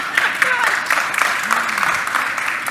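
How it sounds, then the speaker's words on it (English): An audience at the Transform Westside Summit morning welcome breaks into steady, close clapping that fills the room, with voices talking over it. "You can clap."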